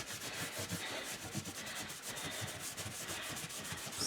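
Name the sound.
rubbing wax into an ornate frame with an old flannel cloth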